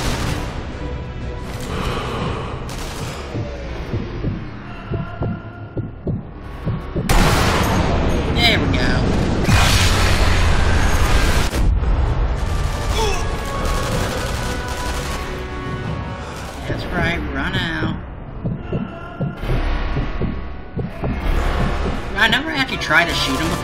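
Gunfire in a first-person shooter video game set against Nazi enemies: repeated loud shots and booming blasts over a continuous roar of battle, with a voice talking throughout.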